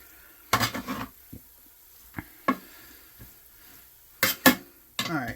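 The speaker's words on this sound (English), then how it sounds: "I'm just going to use this spoon here to mix it up" Spoon stirring a pork carnitas mixture in a pan, a series of sharp scraping clinks against the metal in uneven bursts, close and clear over quiet sizzling, without talk.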